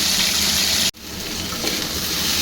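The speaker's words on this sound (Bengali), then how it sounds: "ফুলকপি আলুটা ভেজে ভালো করে ভাজছি, ভেজে নেব।" Cauliflower and potato pieces fry in hot oil for fulkopi aloo posto, giving a steady close sizzle that cuts out abruptly for a moment before the frying hiss resumes.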